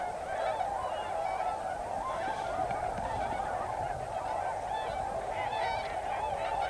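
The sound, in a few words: tundra swans calling as flocks gather in Wisconsin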